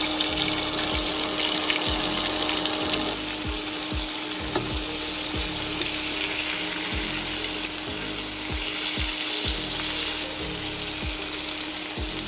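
Coated KFC-style chicken deep-fries in hot oil with a loud, dense, continuous bubbling sizzle. Faint rhythmic clicks run steadily underneath.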